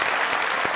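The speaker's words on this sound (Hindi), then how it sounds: "तालियां।" Studio audience of a comedy talk show clapping, a brief burst of dense applause.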